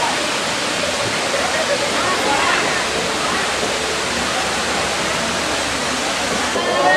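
A scenic waterfall in Xishuangbanna roars as a loud, dense, unbroken wash of falling water, with voices faintly present beneath it.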